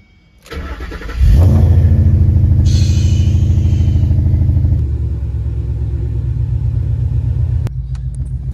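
A car engine cranks, catches and settles into a loud, steady idle while warming up in the morning. The low rumble stays close and constant, easing slightly lower partway through, with no talking.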